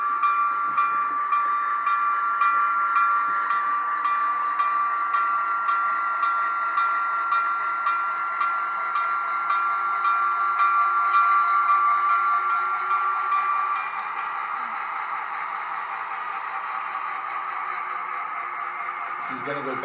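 A train pulls away with a sustained hiss and whistle-like tone over rhythmic clanking, steady and fairly loud, then thinning slightly as it moves off, with someone talking throughout.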